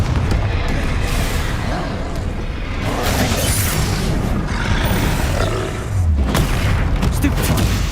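Confringo fire blast spell in Hogwarts Legacy, a series of loud booming, roaring bursts over dense continuous combat noise, with a few sharper impacts near the end.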